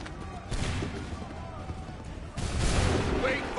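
Musket volleys in the Assassin's Creed 3 video game, with two loud bursts of massed gunfire, the second heavier and longer, over a rumbling battlefield backdrop.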